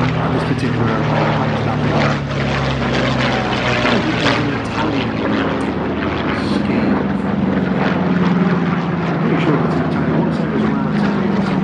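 A Curtiss P-40C propeller fighter flies at the Flying Legends 2023 airshow, its engine giving a loud, sustained droning roar with a gently shifting pitch that fills the whole clip.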